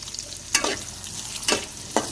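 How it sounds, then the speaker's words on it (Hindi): Onions fry and brown in a pot for chicken keema pulao, a soft steady sizzle broken by three sharp scraping stirs, quiet and close with no talking. "प्याज को करेंगे हम ब्राउन अच्छे से।"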